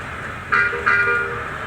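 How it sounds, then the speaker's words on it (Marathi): A bus horn sounds in the Bus Simulator India video game, two short toots in quick succession over a low engine hum. "आता हिला हॉर्न देऊ आपण"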